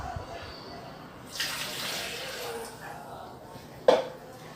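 Water is poured into a bowl of dough mixture with yeast, a steady close splashing stream lasting about a second, followed by quiet kitchen sounds and a single sharp knock.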